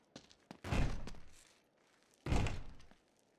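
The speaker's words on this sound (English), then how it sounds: "Come on, Sully, give me some help with this door." A heavy door in Uncharted 3: Drake's Deception gets shoved open in two strong pushes, each a deep thudding scrape that swells and fades, separated by a quiet pause, with small knocks before the first.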